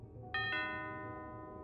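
A two-tone doorbell chime rings once, ding then dong, its tones ringing out and slowly decaying over a low background hum.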